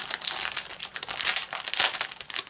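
Packaging of an embroidery kit is opened, making close, loud crinkling and crumpling of plastic wrap in quick irregular bursts.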